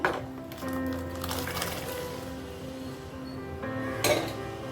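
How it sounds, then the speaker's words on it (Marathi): Boiled chickpeas go into a metal pot for a Goan chana ross curry, with soft clinks and scrapes of a spoon against the pot and a brief clatter near the end. "आतां आमचे चणे उकडले ते आमी भितर एड करया."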